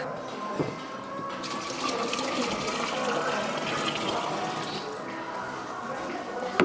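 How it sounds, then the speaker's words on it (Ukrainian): Water pouring into the tank of a Kärcher rotary floor-cleaning machine during a cleaning job: a steady splashing, gurgling fill that runs continuously close by, with low background noise underneath. "Потрібна нам також і вода, яка заливається в сам бак."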